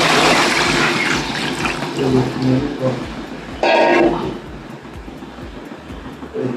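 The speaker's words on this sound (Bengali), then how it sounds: "ঝোলে জল দিয়ে দিলাম এবার ঢাকা দিয়ে দেবো" Water poured into a pot of potato curry, a loud close rushing splash that swells and then ebbs, with a brief stronger gush near the middle.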